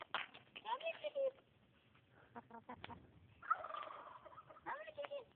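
Chicken at a bird enclosure giving several short, throaty clucking calls in bursts, fairly faint and near, with quiet human voices around it.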